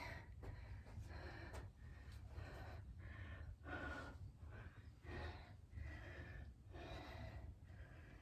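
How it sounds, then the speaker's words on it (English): Heavy, deep breathing during a rest between plyometric exercises, rhythmic rasping inhales and exhales repeating steadily over a low background hum, fairly faint. "Deep breathing."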